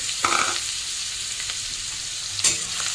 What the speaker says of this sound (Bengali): কড়াইয়ের তেল আর একটু বাটার দিয়েছে, পেঁয়াজ আর ক্যাপসিকামটা দিয়ে দিয়েছে